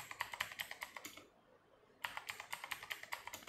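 Quick, crisp keystrokes on a computer keyboard while a new password is entered, with a rapid run of taps, a pause of about a second, then another fast burst, close and clear.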